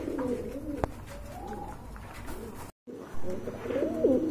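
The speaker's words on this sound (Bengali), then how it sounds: "চলেন আপনাদেরকে কবুতর গুলো দেখাই।" Soft, low pigeon cooing repeats in gentle rounds, close by, with a brief gap of silence midway before the cooing resumes.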